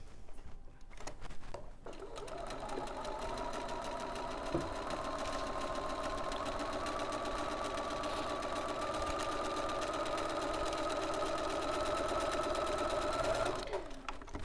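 A domestic sewing machine runs steadily for about eleven seconds, stitching a quarter-inch seam on a soft-toy sewing kit, its fast even whir close and continuous between brief quiet moments at the start and end.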